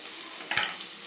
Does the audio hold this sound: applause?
no